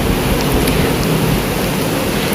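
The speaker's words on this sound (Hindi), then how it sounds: "आवाज़ सुनो बारिश की।" Heavy rain pours down in a steady, dense hiss, constant and loud with no pauses.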